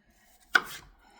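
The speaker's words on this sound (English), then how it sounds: "Right now I'm cutting up the carrots." One crisp knife chop through a carrot on a cutting board, a single sharp close thud followed by a short fade, otherwise quiet.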